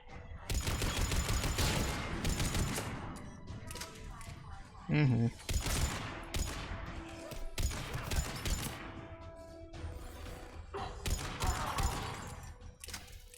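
Turret fire in Mass Effect 3 clatters in long bursts of rapid shots, loud and sustained, broken by a thud and brief gaps, with voices speaking between the volleys.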